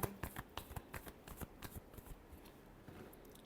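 A deck of tarot cards is riffled and shuffled close by in a quick series of papery flutters and snaps, loud at first and thinning out toward the end. No voice is heard.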